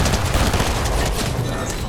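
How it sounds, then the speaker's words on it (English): Rapid bursts of gunfire from a Fortnite match crackle in dense, continuous volleys, loud and close, like sustained automatic weapon fire. "I'm getting shot at."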